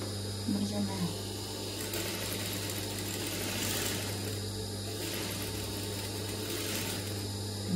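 A sewing machine runs steadily while stitching pajamas with lace trim, with the needle stopped and reversed for a backstitch. A continuous mechanical hum carries the whole stretch, and a voice speaks briefly near the start.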